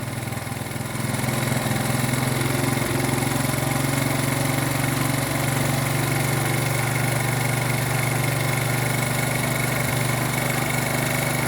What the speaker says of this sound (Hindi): अब इसको मैं ओपन करना शुरू कर रहा हूँ, तो एक्सीलेटर बढ़ना शुरू हो गया, खुद ब खुद बढ़ रहा है।